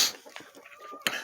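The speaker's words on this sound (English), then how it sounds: "And we are in my chicken coop." Chickens inside a backyard coop give short, scattered clucks and squawks at close range, with a sharper, louder call near the end.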